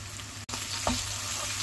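Tomato paste and pepper paste fry in a pan with a steady sizzling hiss, broken by a short gap and a single scrape of a spoon stirring the mixture.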